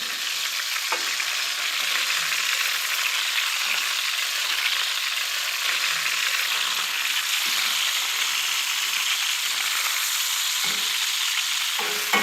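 Carrots and onions fry and caramelize in a pan, giving an even, loud, continuous sizzle with a couple of faint stirring knocks and no voices.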